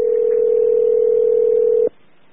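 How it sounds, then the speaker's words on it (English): A single steady telephone ringback tone sounds loudly on a phone call for about two seconds, then cuts off abruptly, leaving faint line hiss. "It's ringing."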